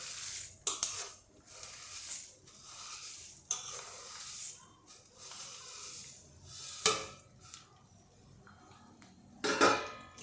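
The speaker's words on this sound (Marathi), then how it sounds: "आता मी हे मुरमुरे याच्यामध्ये ओतून घेते" Puffed rice (murmure) is poured into a pot and tossed for bhel, a rustling, crackling pour with dry shuffling, bursts of scraping and clinks of metal, close and fairly soft, no voices.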